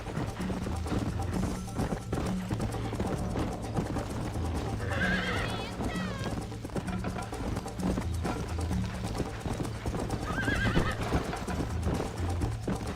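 Horse in the Red Dead Redemption video game gallops with steady clip-clopping hooves and gives two shrill whinnies, with background game music throughout.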